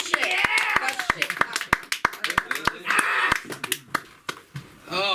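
A few people clap for comedian Carlos at an open mic comedy night, sharp irregular claps close by, while voices talk and whoop over them.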